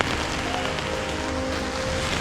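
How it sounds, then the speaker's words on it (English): Wind-driven rain falls sideways, a steady, dense hiss of drops pattering on surfaces close by, with no break and no voices. "the rain is moving sideways"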